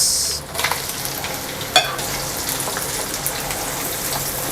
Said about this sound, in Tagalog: Lagyan natin yung ating bawang, sibuyas.